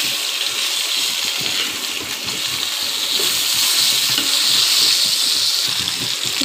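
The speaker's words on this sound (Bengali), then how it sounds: "মাছগুলো এখন উল্টে নেব, একটু ভাজা হয়ে গেছে।" Steady, dense sizzling of nola fish frying in a pan, a continuous hiss with faint crackle throughout and no talking.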